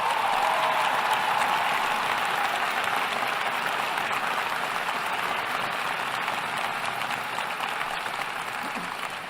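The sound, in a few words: audience applause for city council aldermen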